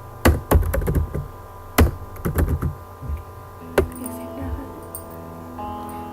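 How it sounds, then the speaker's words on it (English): Keys clack on a computer keyboard as a message is typed, in short irregular clusters of taps with pauses between them, close and fairly soft over a faint steady hum. "if I type any message"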